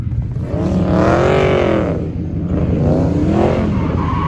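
A Dodge Scat Pack car spinning its wheels and revving hard, a loud sustained engine roar rising and falling in pitch across the whole stretch, close and dominant with no talk over it.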